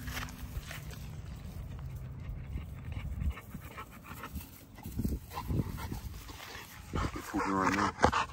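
XL pitbull dogs pant heavily while playing fetch off leash outdoors, close and steady breathing with a few scuffling sounds, and someone talks briefly in the background.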